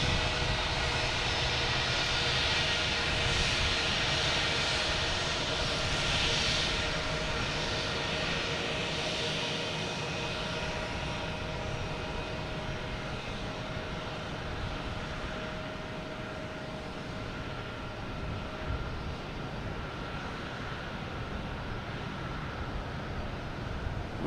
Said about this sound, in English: JetBlue going by us there is heading to San Juan.